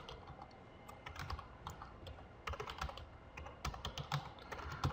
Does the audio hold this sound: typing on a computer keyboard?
yes